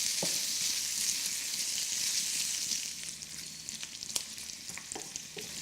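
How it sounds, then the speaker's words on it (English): Bacon strips fry in a hot pan without added oil, giving a steady close hiss of sizzling fat with occasional sharper pops and crackles throughout. "So into our hot pan, no need to add any oil this time because the bacon will add that little bit of fat"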